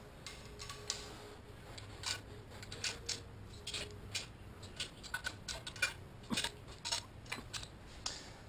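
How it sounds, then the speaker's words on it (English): Torque wrench tightening bolts on a diff brace of a first-generation Cadillac CTS-V, a faint series of quiet ratcheting ticks and metallic clicks spread irregularly across the clip, close and soft. "Use your torque wrench to torque the bolts down to the correct torque."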